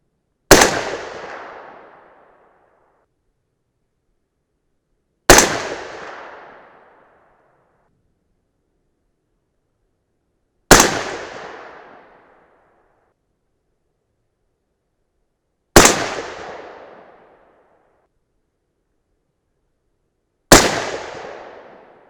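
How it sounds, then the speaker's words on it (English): .308 Win AR-10 rifle firing Lapua Scenar loads (155 and 167 grain bullets over RL 15 powder): five loud, sharp shots spaced about five seconds apart, each trailing off in a long echoing decay outdoors. "we're going to shoot them all through one hole"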